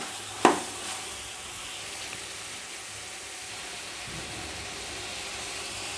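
Mushrooms fry in a pan for mushroom biryani, giving a steady soft sizzle, with one sharp clank near the start and then an even hiss.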